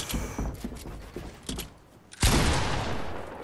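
Bursts of video game gunfire rattle out in quick clusters, followed by a loud crashing blast that lingers as a noisy rumble.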